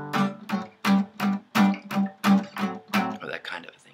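Swing-style rhythm guitar chords, played as a steady run of about nine short strummed hits with gaps between them, close and clear with no talking.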